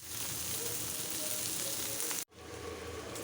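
Garlic and dried red chili sizzle steadily in hot oil in a pan, a loud, close, continuous frying hiss that cuts out abruptly for an instant before resuming.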